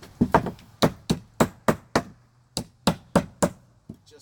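A hammer knocks old deck boards off the joists in a dozen sharp, loud, close wooden blows, struck in quick irregular bursts with brief pauses between groups.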